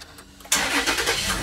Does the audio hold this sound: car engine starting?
yes